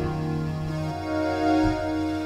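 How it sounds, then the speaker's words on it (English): Clean square-wave tone from a Citrus synth playing steady sustained notes with shifting pitches, bright buzzy harmonics, moderately loud with no talking. "I've added in that kind of clean, square sounding wave."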